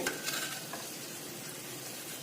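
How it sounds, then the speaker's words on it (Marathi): Coconut barfi-filled karanji deep-fry in oil over medium heat, giving a faint, even bubbling hiss with a few light clinks at the start. "करंजी आता पलटी करूया मध्यम गॅसवरती दोन्ही बाजू छान तळून घ्यायचे"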